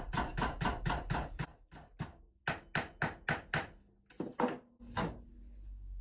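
A hammer strikes wire clamped in a vise in a rapid series of sharp, close metallic blows, pausing briefly between bursts, with a final ringing hit near the end.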